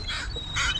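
Seabirds gathering over chicken bait set in a crab trap, giving a brief pair of honking calls close by and unaccompanied.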